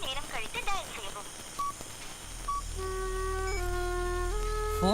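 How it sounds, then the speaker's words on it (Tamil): A voice speaks briefly, then two short keypad beeps sound, followed by steady electronic phone tones holding to the end. "நான் கணேசனுக்கு ஃபோன் பண்ணிட்டு வரேன"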